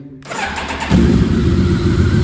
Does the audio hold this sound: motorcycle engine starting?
yes